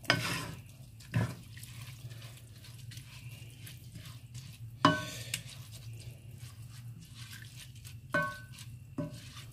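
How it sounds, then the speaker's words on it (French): Glasses of water poured onto rice in a pot while making tomato rice, heard as a few short splashing pours over a steady low kitchen hum. "je vais rajouter un 3e verre d'eau"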